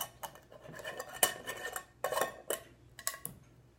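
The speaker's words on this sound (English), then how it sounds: "Put on the jar lid and then" A jar lid on a homemade snow globe jar gives several sharp clinks and light scraping taps, close and fairly quiet, in short bursts with brief pauses between.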